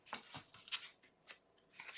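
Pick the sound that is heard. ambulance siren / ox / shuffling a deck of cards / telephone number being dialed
shuffling a deck of cards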